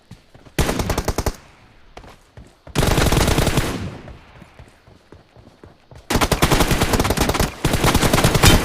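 Machine-gun fire in a team deathmatch shooter game rattles in loud, close bursts, several long stretches of rapid shots with short quiet gaps between them.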